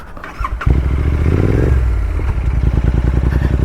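A motorcycle engine runs close up while riding along Parra Road in Goa, a steady rumbling drone with a brief rev near the start and a rhythmic, slightly clattery pulse continuing throughout, with no talk.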